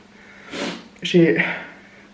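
Two sharp nasal sniffs, one after the other, close and fairly loud, with a brief breathy snort quality.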